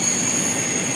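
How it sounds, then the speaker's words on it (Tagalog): A train passes nearby as a steady, loud broadband rumble of railcars and wheels on track, continuous and unbroken, with no voices. "Ayun ang train, oh."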